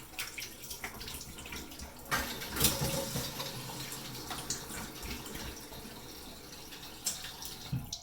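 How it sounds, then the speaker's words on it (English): Water running from a bathroom sink faucet while something is rinsed off, a steady close hiss with splashy bursts and small clatters, no voices. "Apologies about the sink. I don't know why it does that, but it does."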